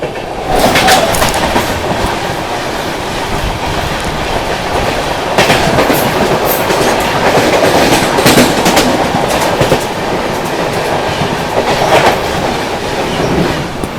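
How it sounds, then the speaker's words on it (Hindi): Mysore–Jaipur Superfast Express rolling past, a continuous loud rumble with rhythmic clickety-clack of wheels over rail joints, sustained close by for the whole stretch without any talking. "सामने से आ रही है दोस्तों मैसूर जयपुर सुपरफास्ट एक्सप्रेस"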